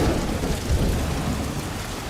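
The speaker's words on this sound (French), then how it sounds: "C'est pas de la pluie, c'est de la grêle." Hail pelting down in a storm in the Bulgarian wilderness, a dense, steady roar of stones striking the ground with deep rumbling underneath, loud and continuous with no talk.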